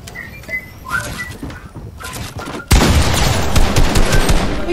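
Gunfire in the battle royale video game Fortnite: scattered shots at first, then a loud, dense burst of rapid firing that holds steady through the second half.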